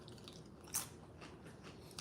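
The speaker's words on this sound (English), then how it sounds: "it's so really crunchy when you first bite it, but then it becomes soft" A crunchy snack resembling tortilla chips is bitten with one sharp crunch, followed by quieter, soft chewing sounds close to the microphone, faint against a hushed background.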